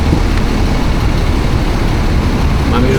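A Toyota JZX90 Mark II engine rumbles loudly and close by, its exhaust giving a steady, heavy low-pitched drone with no clear revving or pauses.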